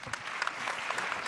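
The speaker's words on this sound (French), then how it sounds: "On peut l'applaudir." A brief burst of audience applause during a small-business tech plenary session, a dense crackle of many hands clapping with no gaps.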